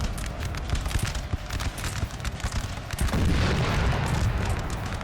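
Volleys of musket and artillery fire as French troops shoot at Portuguese lines in Napoleon: Total War, a dense run of booms and pops that swells louder toward the end.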